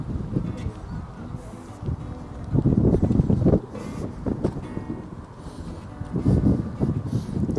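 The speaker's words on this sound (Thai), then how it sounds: "ลมพัดเย็นมากเลยครับ" Wind blows in strong gusts at Bang Pu seaside resort in Samut Prakan, buffeting the microphone with loud rumbling bursts between calmer stretches, and a voice comes through at times.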